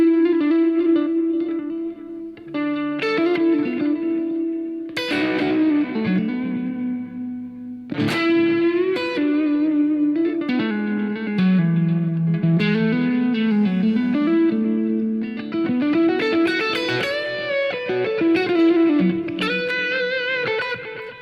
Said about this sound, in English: when I lighten the touch and I play less with the pick, you hear a character on the notes that are pull-offs